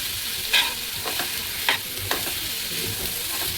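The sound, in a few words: frying in a little oil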